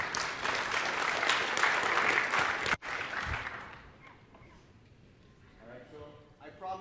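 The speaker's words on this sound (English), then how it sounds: "give a hand clap for David Elfassi" Audience applause breaks out during a technical training session, a dense wash of clapping that fills the first few seconds, then fades toward quiet with faint voices murmuring near the end.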